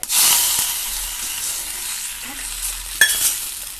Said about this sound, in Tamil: இதில் கடுகு உளுந்தம் பருப்பு, வத்தல், கொஞ்சோண்டு பெருங்காய பொடி, அப்புறம் கருவேப்பிலை தாளிச்சு